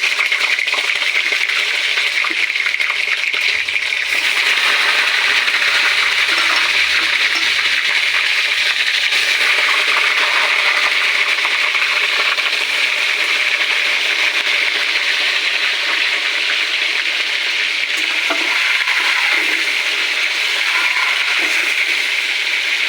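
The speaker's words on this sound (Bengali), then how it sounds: "এখন আমি এই যে নুন হলুদ মাখা চিকেনটাকে হালকা ফ্রাই করে নেব" Chicken pieces coated in salt and turmeric frying in hot oil in a pan, a loud, steady, unbroken sizzle with a dense crackling hiss throughout, no talking.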